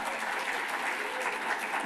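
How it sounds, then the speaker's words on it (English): An audience applauds an introduced honoree at a Los Angeles event celebrating Black trailblazer families, a dense, steady wash of many hands clapping at moderate volume, with no speech over it. "Let's give her a round of applause."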